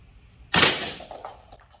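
One Byrna 12 gauge round fired, a single loud, sharp bang that decays quickly into a short ringing tail, with no voices.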